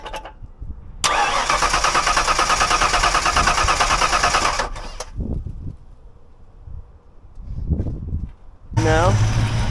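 A Ford Mustang Foxbody engine cranks and fires, a loud close whirring crank followed by rough idling revs, then quieter stretches and another crank at the end, with people talking over parts of it.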